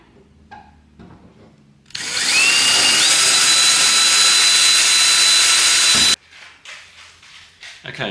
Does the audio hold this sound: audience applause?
no